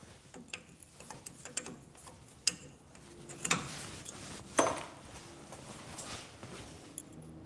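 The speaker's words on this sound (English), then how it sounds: "So I'm going to go ahead and pop my cotter pins" Small metallic ticks, clinks and scrapes come from cotter pins being worked out of a Toyota 80 Series steering knuckle, with a couple of louder knocks against a quiet workshop background.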